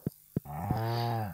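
A cow moos in the farming video game Stardew Valley, a single drawn-out low lowing call after two short soft taps, close and clear with no speech.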